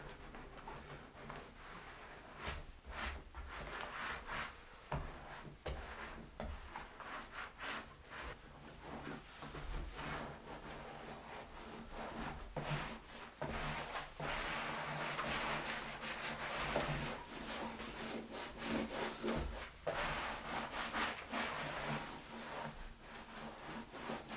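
Hands rub a tanning mixture into a whitetail deer hide, making a steady, close, rough scrubbing and scraping sound with rhythmic strokes throughout and no talking.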